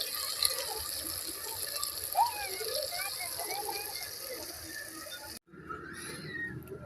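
Water is poured from a vessel into a simmering saalan curry during home cooking, making a steady, close gushing trickle that runs for several seconds before a brief break and a fainter splash.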